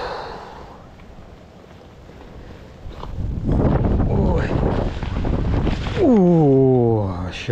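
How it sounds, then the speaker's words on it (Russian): Wind buffets the microphone on a riverbank of the Oka river, rising to loud rumbling gusts partway through, while someone talks and sighs over it. "Как раз ветер эти 2 дня в эту сторону дует."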